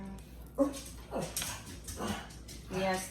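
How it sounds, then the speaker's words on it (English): A dog barking and whimpering at children outdoors, several short yips and barks spread across the moment, fairly faint and mixed with someone talking nearby. "that's my dog barking at the kids"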